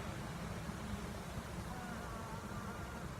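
A steady, dense buzzing drone of many honeybees close by in a top-bar hive, continuous and unbroken with no voices.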